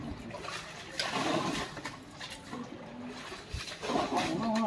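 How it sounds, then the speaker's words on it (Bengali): Water gushing from a leaking pipe, a steady broadband rush that swells and fades over a few seconds, with faint background voices and outdoor noise. "প্রচুর জল বেড়াচ্ছে।"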